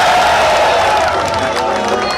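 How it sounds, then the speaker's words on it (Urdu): Audience applause and scattered cheering at an outdoor railway ceremony in Mianwali, a loud, steady crowd wash lasting a couple of seconds with faint voices mixed in. "بڑی کمزور سی تالی ماری ہے آپ نے"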